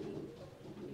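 Racing pigeons coo softly in a loft, a low, steady murmur that sounds faint and close for a brief moment, with no voices.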